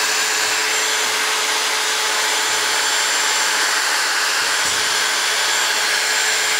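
A Pistorius WL-S dual spindle dovetail key machine runs continuously, a loud, steady high-pitched motor whine and hiss close by, unbroken for the whole stretch without talk.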